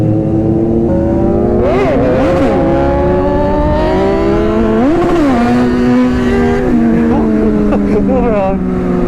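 Superbikes, among them a Kawasaki Ninja ZX-6R, a Z900 and a GSX-S750, rev loudly and continuously close by during wheelies, with engine pitch rising and falling in repeated swells, a voice heard under the roar.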